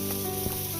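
Tilapia simmering in a cooking pot, a steady bubbling, sizzle-like hiss running close and even through a brief moment.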